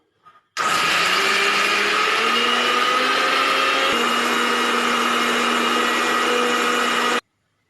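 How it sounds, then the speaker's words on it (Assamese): A mixer grinder grinds chana chutney with a loud, steady motor whine that starts abruptly, runs continuously for several seconds, then cuts off. "এইখিনি গ্ৰাইণ্ড কৰি লওঁ, তাৰপিছতে হৈ যাব আমাৰ।"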